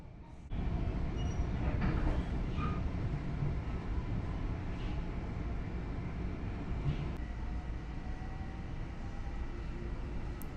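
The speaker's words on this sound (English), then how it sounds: "We loved the bagels, so we got them again and then hopped on the train." A New York subway train rolls along in a continuous low rumble with rattling carriages. Faint squeals and clanks sound at points over the steady roar, and no one speaks.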